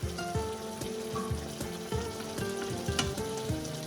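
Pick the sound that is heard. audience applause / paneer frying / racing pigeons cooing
paneer frying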